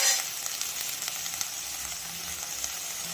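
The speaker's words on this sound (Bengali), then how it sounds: "এবার এটিকে ভাজা ভাজা করে কষে নিতে হবে।" Semolina sizzles and crackles steadily as it fries and is stirred in a pan with salt and turmeric, a continuous close hiss with small scraping accents and no talking.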